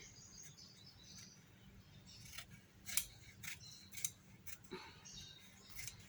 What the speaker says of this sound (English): Now I'm going to cut out this dot.